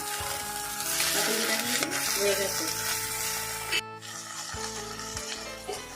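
Ilish paturi, hilsa fish wrapped in taro leaf parcels, frying in a pan: a steady moderate sizzle with scraping and rustling of a spatula turning the parcels, plus a brief clatter near the end.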